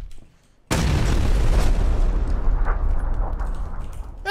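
A grenade explodes in PUBG with one sudden loud boom that cuts through near-silence, followed by a long rumbling roar that slowly tails off.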